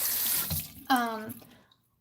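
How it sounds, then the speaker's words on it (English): Water running briefly from a bathroom sink tap while rinsing the face, a short close splash and flow that fades out quickly. "it's good to really rinse your face really well"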